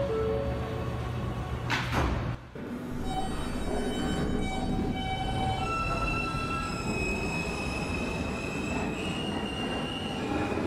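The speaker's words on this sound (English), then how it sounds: "Stand clear of the closing doors," Brooklyn-bound L subway train on the New York line, with a loud wheel squeal and a sharp burst near two seconds where the doors close, then steady rumble and tonal whine as the car rolls on.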